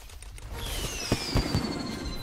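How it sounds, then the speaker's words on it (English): Fireworks animation from an Overwatch Lunar New Year loot box: sharp pops and crackles with whistling streaks overhead, several bursts in quick succession against a steady game background. "I really like the fireworks animation on the new loot boxes."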